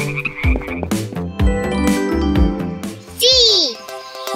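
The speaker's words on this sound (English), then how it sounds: "Barking tree frog." A barking tree frog croaks in a few repeated calls over bright, bouncy children's music, followed by a rising, squeaky tone.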